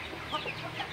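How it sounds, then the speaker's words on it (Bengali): A large Sonali-breed rooster on a farm makes soft, low clucking murmurs, close by and continuous over a light background hiss. "আমার খামারের একটা শখের মোরগ আছে, সেটা হচ্ছে সোনালির মোরগ"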